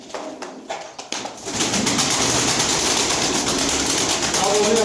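Pigeons in a breeder's loft, a mass of soft overlapping coos and wing flutters that swells after the first second into a steady, dense chorus close by with no talk.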